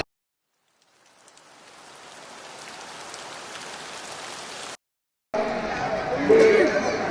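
Rain falls outside a church during a feast, swelling from silence into a steady patter. After a brief cut it comes back with people chattering nearby.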